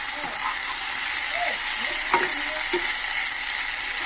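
Ivy gourd and potato fry being stirred in a pan over low heat makes a soft, steady sizzle with a couple of spoon scrapes against the pan, under faint background noise.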